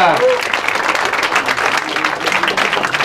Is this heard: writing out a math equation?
no